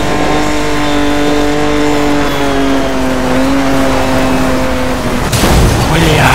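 A sports car engine drones at its 280 km/h top speed in Need for Speed Most Wanted 2012 during a police chase, a steady high whine that holds without a break before a sudden loud crash near the end. A voice talks over it.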